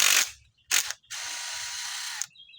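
Screws come out of an aluminum screen door with a whirring, ratcheting tool in three bursts: two short ones, then a longer steady run of about a second, close and fairly loud.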